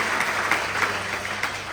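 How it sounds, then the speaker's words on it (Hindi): Steady applause from a crowd, a dense wash of clapping that holds at an even level throughout. "आई थिंक हम एक बार जोरदार तालियों से फिर से स्वागत कर सकते हैं।"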